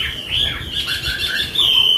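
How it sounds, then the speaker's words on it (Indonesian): A Wambie songbird sings continuously in a series of bright, whistled and warbling phrases, fairly loud and close, with no talking over it. "Satu burung aja udah ramai banget ya."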